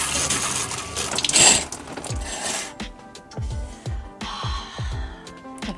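Shower water runs inside a parked camper van, hissing briefly before giving way to rhythmic mechanical clunks and whirring from the van's running systems, close and moderately loud.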